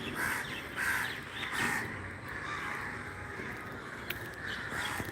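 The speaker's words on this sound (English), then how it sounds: "See, there are many crows sitting" Several crows on a rooftop caw repeatedly, harsh calls rising over steady outdoor background noise, fairly close by.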